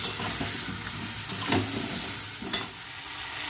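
Potatoes with turmeric and a little chili paste sizzling in a pan, with crisp scrapes of stirring and two sharper clatters as the mixture is turned; close and steady, no talking.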